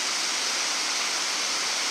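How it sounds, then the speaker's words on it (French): Water in a forest stream beside a bushcraft bivouac on a rainy day rushes with a steady, even hiss that stays constant throughout, with no talking. "on va se faire un petit tour du côté du ruisseau"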